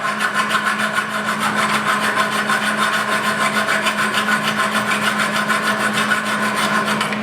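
A hand file rasps steadily against a steel railing at a weld joint, a continuous close scraping with a dense rhythmic texture over a faint steady hum, no talking.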